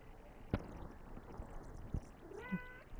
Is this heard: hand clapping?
no